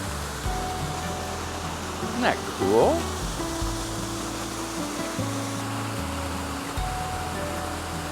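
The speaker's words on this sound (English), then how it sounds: "this leads up to the waterfall," Steady broadband rush of an indoor waterfall in a shopping mall fills the space, with a person speaking briefly over it partway through.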